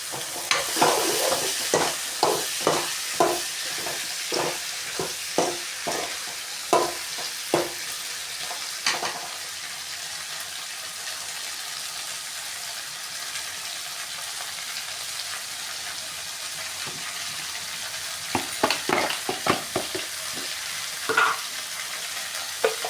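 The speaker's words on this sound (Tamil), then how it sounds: "இப்போ நம்ம வெண்டைக்காவை கொட்ட போகிறோம். நல்லா வதக்கிக்கலாம்." Okra sautés in a hot pan for a tamarind curry, with a steady sizzle under repeated scraping stirs that come in a run early on and return in a short burst near the end.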